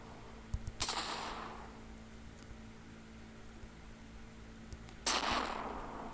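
Gunshots in a video game ring out as two distinct loud bangs several seconds apart, each with a short decaying tail over a low steady hum.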